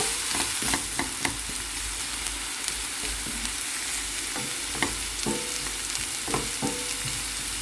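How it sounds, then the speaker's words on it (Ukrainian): Carrots and onions sizzle steadily in a frying pan while a utensil scrapes and stirs them in irregular strokes, close and continuous, with no talking. "я бачу, що трішечки підсмажилась і цибулька стає більш карамельна"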